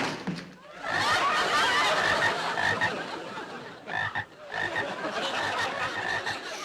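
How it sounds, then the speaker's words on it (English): Frogs croak in a cartoon, many of them together in a dense, continuous chorus of raspy calls that keeps going for several seconds with a brief dip partway through. "Dale, if you just take a look at these cute little frogs."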